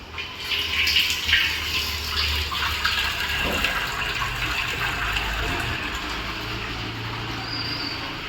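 Water flows steadily and loudly from the pipe of an AquariuS rain water filter, a continuous rushing, splashing stream close by with no talking.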